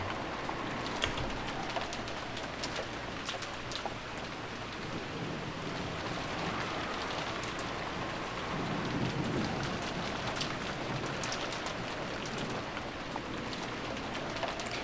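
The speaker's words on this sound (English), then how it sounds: "disappeared beneath the sound of the rain" Steady rain pours in the Umineko visual novel, a continuous dense hiss of drops on surfaces with faint distant thunder rumbling low underneath, unbroken throughout.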